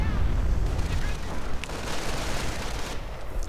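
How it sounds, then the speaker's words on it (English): Artillery barrages pound a medic bunker in the strategy game Company of Heroes, a dense, continuous rumble of booming impacts and crackling blasts that stays loud through the whole stretch, with a commentator talking over it. "More artillery being directed now just against the medic bunker."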